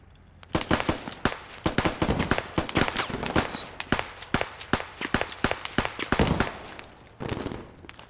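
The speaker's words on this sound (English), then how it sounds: "perfect nade landed on me" Grenade explosion and battlefield gunfire in the video game Squad, a rapid series of sharp, loud cracks and bangs close by, ending in a brief noisy burst.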